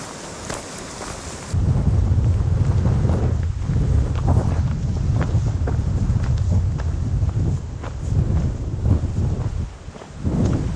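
Storm wind in the Mallorca mountains, loud and buffeting, roars against the microphone in heavy, steady gusts after a quieter opening, with occasional dips and surges.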